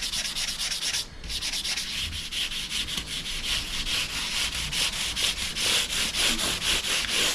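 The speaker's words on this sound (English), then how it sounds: "go with a light fine sanding sponge just to take the top layer of grime off the top of them frets" A fine sanding sponge rubs across the frets of a Squier 40th Anniversary Jazzmaster Gold Edition guitar, giving a close, steady scratchy swishing in quick repeated back-and-forth strokes with no talk.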